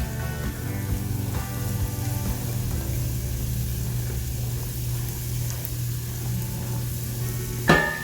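Sauce of water and seasoning poured into a hot pan and stirred for chicken kabobs, with a steady close sizzle and frying hiss throughout, a low hum underneath, and a brief clatter near the end.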